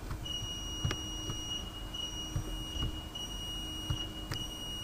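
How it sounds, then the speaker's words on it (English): Alarm beeping in a hotel room, a high chirping tone repeating roughly every second and a half, moderately loud over a faint room hum with soft clicks. "Is it alarm going off?"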